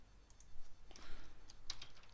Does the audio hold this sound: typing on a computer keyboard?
yes